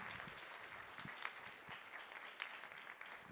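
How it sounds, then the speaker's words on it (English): Faint, distant applause from a conference audience at a Women in Cyber event, an even wash of clapping with a few sharper claps, heard alone without speech. "A big round of applause for them once again, ladies and gentlemen."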